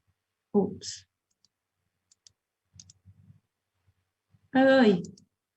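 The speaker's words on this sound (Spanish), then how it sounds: "Entonces van a hacer clic derecho" Mouse clicks, including a right-click, during a computer class tutorial: a few sharp, close clicks amid quiet gaps, with brief speech heard between them.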